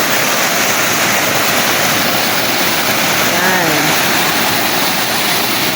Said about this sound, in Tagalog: napakalakas ngayon ng tubig sa falls